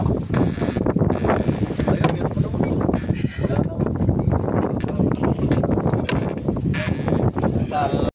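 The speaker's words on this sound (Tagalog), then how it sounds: "Lakas ng hangin." Strong wind buffets the microphone in a steady, roaring rush throughout, with gusty surges and some clattering underneath.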